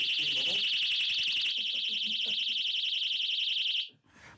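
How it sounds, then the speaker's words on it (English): A loud, piercing burglar alarm screamer wails continuously at a high pitch with a rapid warbling pulse, then cuts off abruptly near the end; faint voices sound beneath it. "Bright lights and noisy alarms, as shown here, are definite deterrents."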